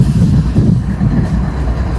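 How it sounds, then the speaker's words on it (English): Train rolling past on nearby tracks, a deep continuous low rumble, loud and steady, with no voices. "And those are the train tracks. Now these trains will cross every like few hours."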